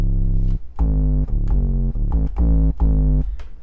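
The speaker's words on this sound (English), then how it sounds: "So anyways, the Gritty 808, let's see, it sounds like this." A gritty, distorted 808 bass from the 808 Essentials kit, used for a dark trap beat, plays about six booming sub-bass notes in an uneven rhythm, loud and alone with no other instruments.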